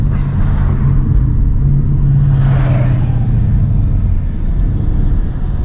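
A Ford Mustang S550 with a Roush X-Pipe and no aftermarket exhaust drones loudly and steadily from inside the cabin after a paddle-shift downshift from fifth to fourth, with a brief swell of engine note midway.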